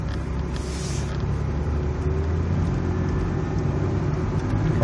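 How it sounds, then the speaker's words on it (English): A 1995 Chevy car accelerates on a test drive, its engine and road noise forming a steady low rumble heard from inside the cabin, with no talking. "Car accelerates really nice."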